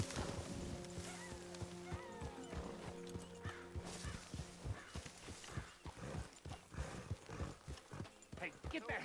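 Clip-clop of horse hooves in Red Dead Redemption 2, a steady walking rhythm of thuds with a snort or whinny, under in-game music and character dialogue.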